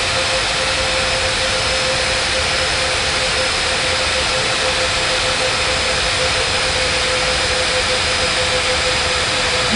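A simulated Alaska jet airliner in an air traffic control video game rolls for takeoff on runway 09 right, giving a loud, unbroken engine roar and whine with no voices.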